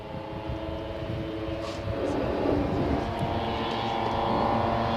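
The Enola Gay, a B-29 bomber, drones in flight, a steady multi-engine propeller hum with layered low tones that builds slightly in loudness across the clip, with no voices.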